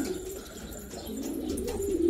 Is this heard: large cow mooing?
no